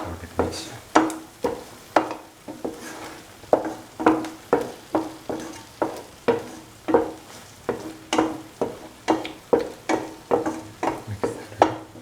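A spoon stirs tomatoes and green chilies in a sizzling pan, giving a regular rhythm of scraping strokes roughly once per second. The strokes are close and distinct over a quiet background of frying.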